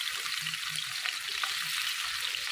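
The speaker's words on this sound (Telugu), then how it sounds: "ఆయిల్ హీట్ అయిన తర్వాత ఈ నెత్తళ్ళను కూడా దీంట్లోకి వేసేసుకోవాలి." Small nethallu fish fry in hot oil, giving a steady, close, bright sizzling hiss with faint bubbling pops throughout and no talking.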